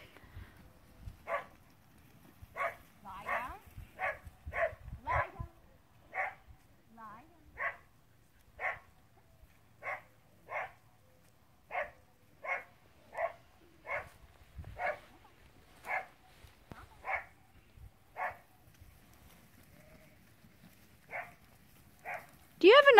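A dog barks in a steady, evenly spaced series of sharp single barks across a quiet open field, fairly distant and moderate in level, with a louder burst near the end.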